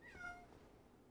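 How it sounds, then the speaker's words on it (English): A house cat meows faintly in the background, with a short, soft rising call near the start and then a quiet room. "if you could hear my cat meow"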